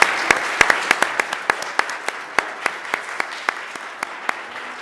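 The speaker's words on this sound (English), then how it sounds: "It's now appropriate at this time to give these ladies and gentlemen a round of applause." Audience at a League of Women Voters candidates forum clapping for the candidates: a fairly sparse round of distinct, close hand claps in a loose irregular rhythm, heard alone without talking.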